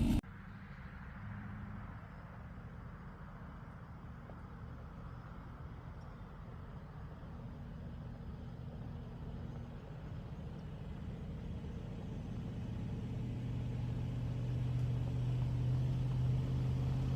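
A vehicle towing a trailer loaded with ten hay bales drives along a road in Louisiana, giving a steady, continuous engine and road rumble that grows slightly louder and heavier toward the end, with no talk.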